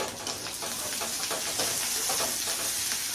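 Onion, crushed ginger and green chili fry in a pan, giving a dense close sizzle with soft stirring scrapes, steady and without talk.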